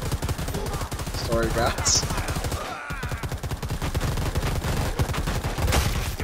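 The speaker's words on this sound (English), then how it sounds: "Two of us have miniguns though." Minigun fire in the video game Predator: Hunting Grounds, a loud, rapid, continuous stream of shots that breaks off briefly midway and then resumes, while a voice talks over it.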